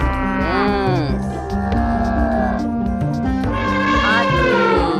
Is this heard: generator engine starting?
no